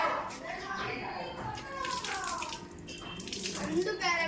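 Sugar baby (gonji) tree fruits being washed in a bowl of water, with splashing and sloshing close by and voices talking over it.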